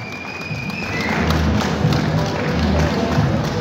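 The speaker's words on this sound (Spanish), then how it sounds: "Fuerte el aplauso, gente bonita" Crowd applause at a boxing event at the 12th Expo Feria del Pulque in Jiquipilco, a dense, continuous roar of clapping with dull thumps that swells after the first second and holds steady.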